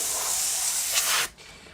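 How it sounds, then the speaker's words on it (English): An air duster can spraying compressed air to clean a PC, a loud close hiss held for over a second, briefly surging before cutting off sharply, leaving only faint room noise. "This is an air duster. I got this to clean my PC."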